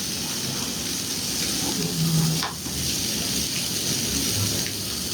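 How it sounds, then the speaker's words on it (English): Egg being stirred into a pot of Italian wedding soup, a steady soft swishing and bubbling broth with gentle sizzle, continuous and close, with no talking. "So you just stir up an egg."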